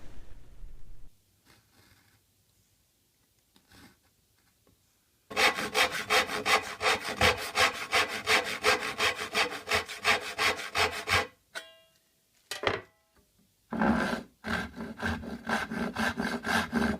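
Handsaw cutting into wood to widen a blind dado for a tool cabinet, rapid rhythmic back-and-forth strokes that start after quiet handling, stop briefly, then resume, close and loud.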